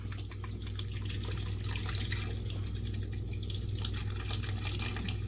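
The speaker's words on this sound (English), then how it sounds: "we're going to throw an entire can of cola into this thing." Cola from a 12-ounce can pours into a pot for barbecue sauce, a continuous soft splashing trickle with light drips over a low hum, fairly quiet and without talk.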